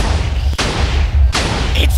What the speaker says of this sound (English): It's still blowing up!